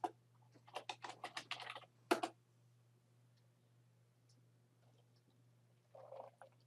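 A burst of quick keystrokes on a computer keyboard, about a dozen close, crisp taps in a rapid run, then a pause and a softer brief patter near the end, over a low steady hum.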